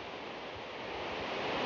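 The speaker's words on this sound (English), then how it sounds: "This is the cascading water that comes from the top of the mountain." Shannon Falls, a tall mountain waterfall in Squamish, British Columbia, swollen after days of rain, pours as a dense, steady roar of cascading water, constant and even throughout.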